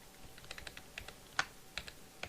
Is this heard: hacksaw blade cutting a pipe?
no